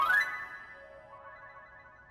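Phone ringback tones sound faintly in a home setting during an outgoing call, a steady electronic tone after a brief initial burst, quiet and with no voices.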